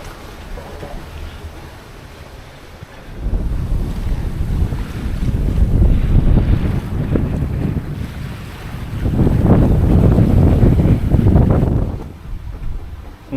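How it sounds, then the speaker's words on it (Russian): A sailboat runs downwind from Nanny Cay, Tortola, toward Christmas Cove in the US Virgin Islands, with steady wind roar and rushing water that swell into two loud stretches of sustained noise close to the microphone. "Ну, зато как приятно идти вниз по ветру,"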